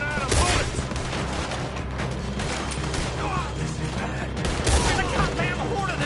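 Rapid, loud gunfire fills a Red Dead Redemption 2 shootout against a horde of enemies, with dense overlapping rifle and pistol shots cracking continuously and a voice talking partly beneath the barrage.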